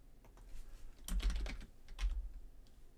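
A computer keyboard is typed on in a few quick clusters of soft key taps, close and fairly quiet over low room hum.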